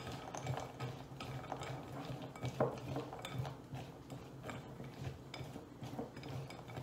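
Almond butter being stirred together with maple syrup and a teaspoon of coconut oil in a bowl, with steady scraping and clinking of a utensil against the dish and one louder clink partway through.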